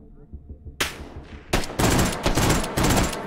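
Gunfire in the VR shooter H3VR: after a quiet start, one loud close shot is followed by a rapid run of sharp reports, a dense loud burst with no talk over it.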